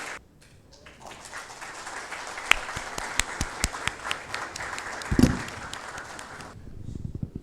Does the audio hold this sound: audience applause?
yes